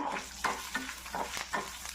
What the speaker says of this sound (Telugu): ఇది కొంచెం చిటపట్లు ఆడిపోతుంది